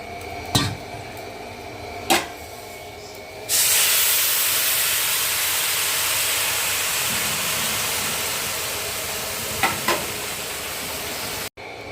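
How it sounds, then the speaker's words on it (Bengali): Water heating in a pot for plain polao, a broad steady hiss of boiling and steam that swells in after a few sharp knocks, continuous and fairly loud, with a couple of taps near the end and no voices. "এখানে দেখো পাত্রতে জলটা সুন্দরভাবে ফোটানো আছে"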